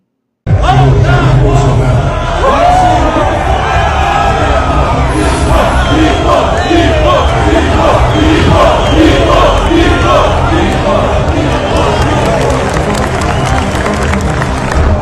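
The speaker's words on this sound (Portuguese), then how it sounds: "Jair Messias Bolsonaro, nosso lindo, eterno presidente, foi aplaudido, fica com a imagem dele" A large crowd cheers and applauds former Brazilian president Jair Bolsonaro, a loud, dense, continuous roar of voices and clapping that holds steady for the whole stretch.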